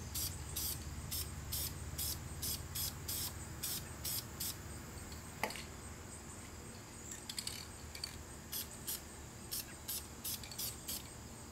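Repeated short hissing bursts of an aerosol spray paint can, in quick irregular pulses, close by, with a brief sharp click midway, while painting wheels.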